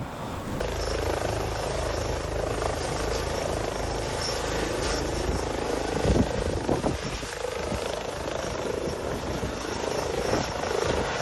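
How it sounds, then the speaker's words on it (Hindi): A helicopter carrying Telangana's chief minister KCR lands at a farmhouse, its rotor and engine giving a steady, loud whirring drone throughout with a few low thumps. "चौकस पायलट ने हेलीकॉप्टर को सड़क के दरमियान से फार्म हाउस की तरफ मोड़ दिया और बाहिफाजत लैंड किया।"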